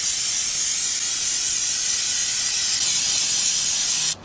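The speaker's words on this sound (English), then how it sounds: "this is what I use, this Maxima air filter cleaner" Steady aerosol hiss of Maxima air filter cleaner sprayed onto a dirt bike air filter from a 2014 Suzuki DR-Z125L, a close continuous spray lasting about four seconds and then cutting off abruptly.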